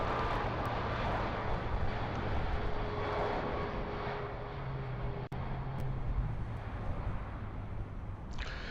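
An airliner departing Heathrow for Toronto gives a steady, broad jet roar that stays loud and even throughout, with no voices over it.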